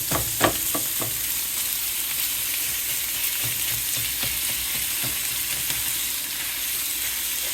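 Ground beef and vegetables sizzle steadily in a pan as a spatula chops and breaks up the meat with sharp taps, most of them in the first second.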